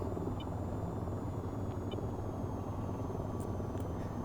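An AH-94 attack helicopter in the flight game VTOL VR drones steadily through a barrel roll, its rotor and engine a constant low rumble, moderately loud and unbroken, with faint beeps above.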